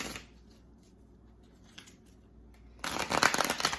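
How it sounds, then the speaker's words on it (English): After a quiet stretch with faint clicks, a single loud riffle shuffle of a deck of cards bursts in near the end. "I'm going to go ahead and do 3 shuffles"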